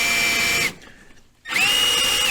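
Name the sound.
power drill drilling out bumper mounting bosses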